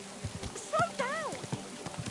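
Horse hooves clip-clop in a steady rhythm in Kingdom Come: Deliverance II, close and moderately loud, with a voice speaking over the steps.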